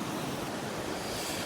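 A small waterfall running over mossy rocks, a dense, steady rushing wash of water filling the whole moment, close and loud with no break.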